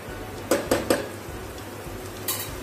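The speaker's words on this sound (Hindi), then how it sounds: "जब तक हमारे अनियन भूनते हैं" Onions, ginger, garlic and green chilli sauté in a pan under a low, steady hiss, while a spoon clinks against the metal several times as they are stirred.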